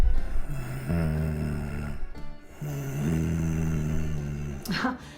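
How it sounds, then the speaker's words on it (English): A person asleep snoring loudly and close, with long rumbling inhaled snores repeating in a slow, steady rhythm, ending in a short snort. "It's someone sleeping and snoring, roncando"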